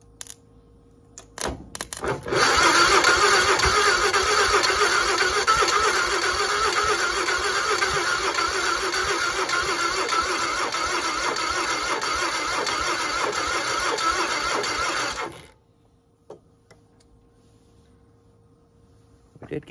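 A 1960 Onan engine, run for the first time in many years, cranks briefly and then catches, running steadily and loud for about thirteen seconds before cutting off abruptly into quiet.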